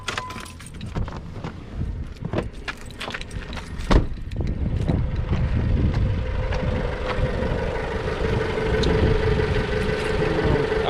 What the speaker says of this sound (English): I'll give it another minute and rev the engine a little bit more.